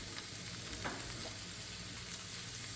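Yucca flower petals wilt in melted fat in a pan, giving a steady low sizzle and frying crackle that continues evenly throughout with no talking.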